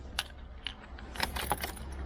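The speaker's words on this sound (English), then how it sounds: "let's get these undone and take the keys out" Keys jangle as they are pulled out during a steering wheel swap on a sixth-generation Honda Civic, several light metallic clinks and rattles spread over two seconds, close and fairly quiet with no talking.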